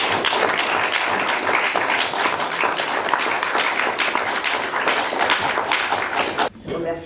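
Sustained, even clapping fills the space for several seconds, close and fairly loud, then cuts off abruptly near the end, leaving a brief quieter moment.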